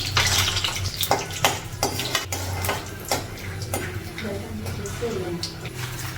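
Mustard seeds splutter and pop in hot oil for semiya pulihora, quick sharp crackles and ticks scattered irregularly close by, while a person talks throughout.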